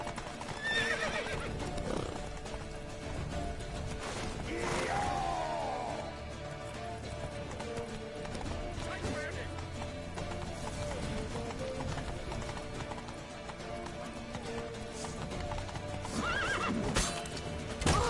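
Horses gallop with rapid clip-clopping hooves while whinnies and neighs break through, amid game effects and a busy background in The Witcher 3: Wild Hunt.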